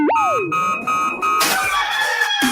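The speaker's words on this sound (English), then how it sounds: "Damn rooster didn't crow." A rooster crows once, loud and close, its rising-then-falling call ringing out clearly, followed by a brighter layered tail of tones in a radio show opening.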